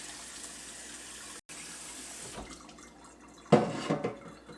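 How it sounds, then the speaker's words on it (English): Hot water poured over a paper coffee filter: a steady faint trickle runs for a couple of seconds, then a louder close splashing pour and dripping follows near the end, with no voices. "Now, we want to wash this filter with some hot water."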